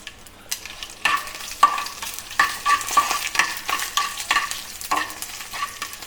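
Whole dried red chillies fry and sizzle with mustard seeds in a pan over low heat for a Kerala ash gourd pulissery, with repeated scraping stirs of a spoon making a steady rhythm of crisp, close sizzling and no talk.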